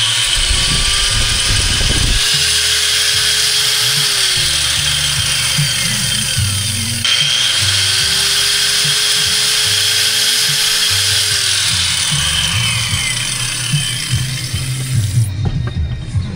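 A 1000-watt angle grinder running on a solar generator setup, a steady high-pitched whine with the motor pitch dipping and recovering a couple of times, loud and close throughout.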